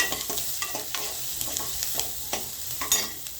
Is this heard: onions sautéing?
yes